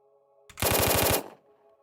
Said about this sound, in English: hails of bullets go flying.